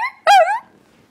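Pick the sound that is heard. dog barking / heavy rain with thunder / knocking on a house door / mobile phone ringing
dog barking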